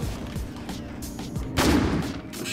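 Gunfire in a first-person shooter video game, several sharp shots cracking over a busy game soundscape, with a louder burst of firing in the second half.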